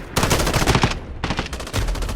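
FAL rifle firing bursts in the shooter game Modern Warfare: two dense, rapid volleys of loud close shots separated by a brief gap.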